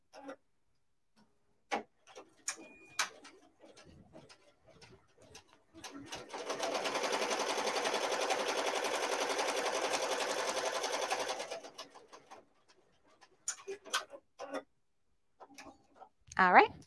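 An embroidery machine stitches a chenille bunny design, a steady whirring hum lasting several seconds in the middle, framed by scattered clicks, taps and handling noises before and after.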